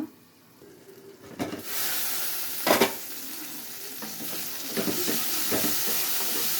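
Tomatoes go into a hot pan for a tomato curry and begin frying with a steady, fairly loud sizzle and hiss. A few stirring clatters cut in, with the sizzle holding on to the end.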